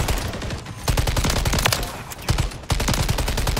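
A TAQ Eradicator light machine gun in the game Modern Warfare 3 fires in long, rapid automatic bursts, loud and close, broken only by brief pauses between strings of shots.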